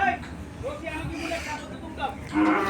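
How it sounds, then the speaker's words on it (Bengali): Buffaloes low at a busy cattle market in Hazratpur Paragram, with deep moos rising over nearby voices and crowd chatter. "অনেক সুন্দর সুন্দর মহিষ।"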